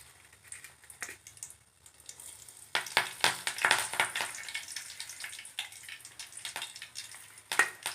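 Fennel seeds, cinnamon and cloves frying in oil for egg curry: a quiet start, then crackling sizzle bursts in uneven spurts, close by and moderately loud.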